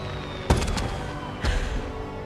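Fireworks going off in a period drama scene, two separate booming bursts about a second apart, the first followed by a short crackling tail, moderately loud with no talk.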